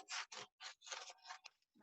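Scissors snip paper in a series of short, close, crisp cuts, about seven quick bursts separated by brief pauses, quiet and with no talk over them.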